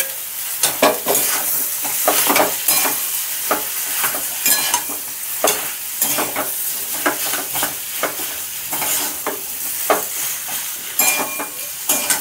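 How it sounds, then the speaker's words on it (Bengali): Mashed potato stirred with spices and melted tomato in a pan for aloo paratha filling, a steady run of scraping stir strokes over a soft sizzle, close and fairly loud, with no talk. "শুকনো শুকনো করে হালকা হালকাভাবে বারবার করে মিনিট 10 এটা কিন্তু নাড়িয়ে নিতে হবে"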